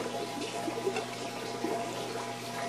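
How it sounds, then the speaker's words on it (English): Water gushing through the pipe of a small home hydro setup, a steady close rushing flow with a faint hum and no voices. "you should see an increase in flow through here. So it'll just come gushing through."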